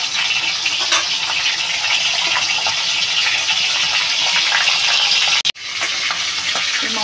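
Large katla fish heads fry in hot oil, a loud, steady, close hiss and crackle that continues throughout, broken by one brief dropout, with no talk.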